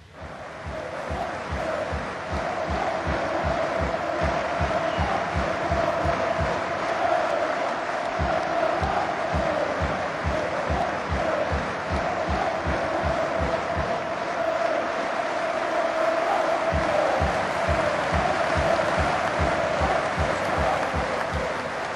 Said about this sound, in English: the minute's applause in memory of Sir Bobby Robson held across the country was even more poignant here